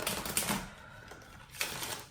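Tarot cards being shuffled make quiet, rapid papery clicks and flutters in a short burst, then again briefly.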